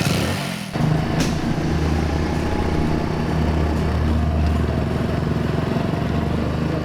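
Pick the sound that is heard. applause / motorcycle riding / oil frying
motorcycle riding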